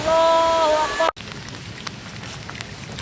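Heavy rain pours steadily as a dense, close hiss with scattered drop impacts, following a brief tonal voice that cuts off abruptly after the first second.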